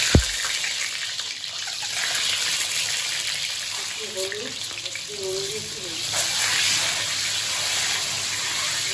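Continuous close sizzling and crackling of a boiled egg frying in hot oil, with a brief knock at the start and faint tonal sounds partway through.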